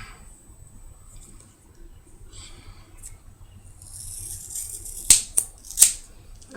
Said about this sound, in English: So I just take the hair out of the pack and cut it in half.